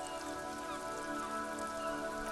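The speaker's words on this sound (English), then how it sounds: "Rain falls onto the roof of a woodshed." Rain drums on a woodshed roof in the Disco Elysium game, a steady close hiss of patter mixed with sustained tonal hum, even and unbroken throughout, no voices.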